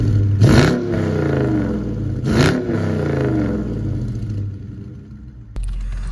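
A 2019 Dodge Charger R/T engine revs up twice with a deep throaty exhaust roar, each rev rising then settling back to a rumbling idle.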